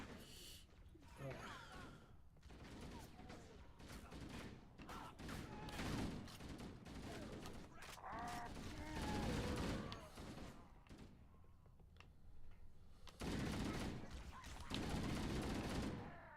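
Bursts of rapid gunfire from shooting aliens in Halo: Combat Evolved, played on easy, come in choppy repeated volleys with short gaps, mixed with game clatter and impacts.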